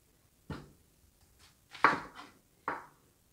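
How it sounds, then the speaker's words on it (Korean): A knife chops vegetables on a cutting board while mapo tofu is being made, giving three separate sharp, close knocks spaced unevenly, with no talk. "야채를 썰어줘야죠."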